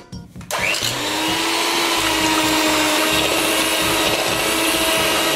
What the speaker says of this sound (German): Und jetzt geht's zum Mixen.